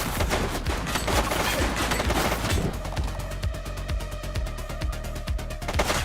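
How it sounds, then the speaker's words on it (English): A suspect opens fire in the video game The Precinct, a dense, rapid burst of gunshots crackling continuously and fairly loud, with sharper shots repeating through the later part. "She's shooting!"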